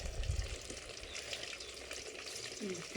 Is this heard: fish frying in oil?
yes